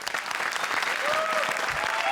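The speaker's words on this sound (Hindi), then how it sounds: "तो हो जाए जोरदार तालियां हमारे सबसे बड़े" Enthusiastic studio audience applause at a comedy show's poetry special, a sustained, fairly distant wash of clapping with no voice over it.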